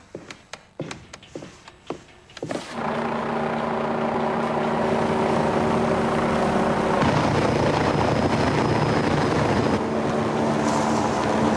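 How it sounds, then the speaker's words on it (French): After a few clicks and knocks, a loud helicopter rotor roar sweeps in and holds steady, close and overwhelming, with wind buffeting throughout. "On a besoin d'hélicoptères."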